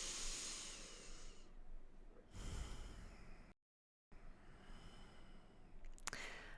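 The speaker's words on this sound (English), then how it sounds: "take a deep breath in, and as you exhale" A deep breath drawn in and released during a pranayama session, with a broad breathy rush near the mic, a brief gap of silence, then a second long airy exhale ending in a short sharp burst.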